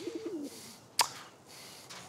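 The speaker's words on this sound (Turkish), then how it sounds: "Münasebetsiz kuş milleti." A pigeon gives a soft, quick series of coos at the start, faint against a quiet indoor background, followed by a single sharp tap.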